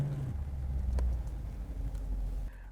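A Dodge Challenger with its stock brakes still fitted sets off, its engine giving a steady, close low rumble that eases slightly near the end.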